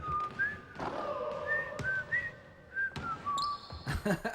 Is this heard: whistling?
yes